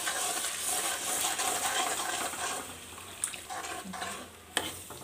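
Rice starch water pours and splashes steadily into a pressure cooker, a continuous watery rush with a couple of light clinks of metal near the end.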